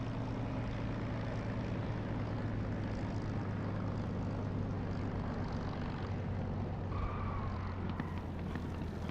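Spitfire engine in a flight simulator game, a constant deep propeller drone near a runway, steady and moderately loud, with a faint rising whine near the end.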